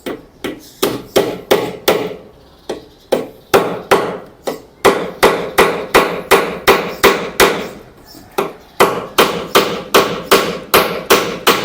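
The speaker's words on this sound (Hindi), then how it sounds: "अब एक चौथी कील का इस्तेमाल करना है, तो इसको हमने यहाँ पर लगा दिया।" Steady hammer blows drive nails into a low-cost wooden table, a fast run of sharp wooden knocks close up and loud, breaking off briefly and then carrying on in an even rhythm, with no talking.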